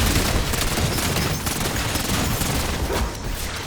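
Rapid, loud gunfire from the Mimic burst weapon in Black Ops 4 zombies mode, dense continuous bursts filling the whole stretch with no speech.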